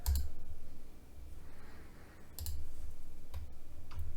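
Computer mouse buttons clicking while working in PCB design software, a few sharp, close clicks spaced irregularly over a steady low hum.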